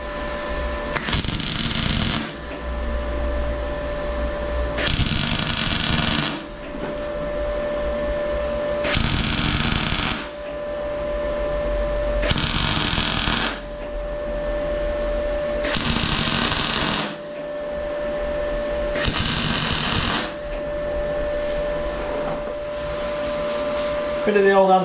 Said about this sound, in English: I'm just going to put a weld there, a weld in the middle, and a weld there.